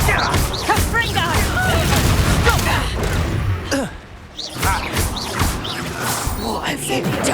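Confringo spell blasts in the Hogwarts Legacy game, a run of loud booming explosions and crashes arriving in quick succession, a short lull, then more blasts, with voices shouting throughout.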